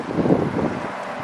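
Wind of about 15 to 20 mph blows around a hunter's tree stand during an Illinois bowhunt, a steady, fairly loud rushing roar buffeting the microphone, with no voice over it.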